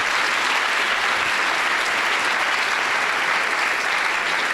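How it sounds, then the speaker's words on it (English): A conference audience applauds, a dense steady wash of clapping from many hands that holds evenly throughout with no voices over it. "maybe a round of applause"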